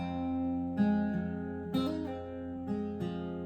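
Slow plucked acoustic guitar playing the intro to a song, separate picked notes ringing out and overlapping at an unhurried, even pace.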